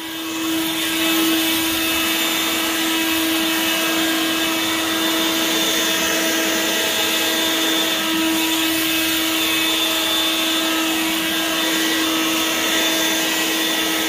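Litheli 40V brushless cordless leaf blower running steadily at close range while blowing leaves, a constant whooshing roar with a high motor whine that holds for the whole stretch without pause.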